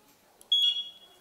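A safety device, apparently a smoke alarm, gives one short, high, piercing electronic beep, faint and close, in an otherwise quiet room.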